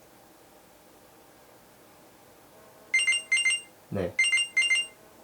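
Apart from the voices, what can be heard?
Galaxy Watch Active2 find-my-watch alarm ringing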